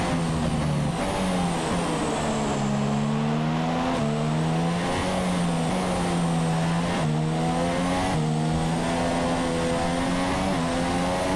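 A Formula 1 race car in F1 2017 at the Brazilian Grand Prix in São Paulo screams loud and continuous, its high engine pitch rising and falling through repeated upshifts and downshifts, alone with no voices.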